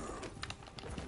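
Horse galloping in Red Dead Redemption 2, quick soft hoofbeats over a dense ambient wash, fairly faint and with no talk.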